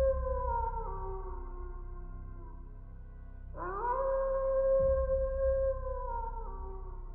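Long, drawn-out howls in a forest at Antipolo, a sustained wavering tone that falls away and then rises sharply again midway, joined by a low rumbling hum, eerie and alone with no talking.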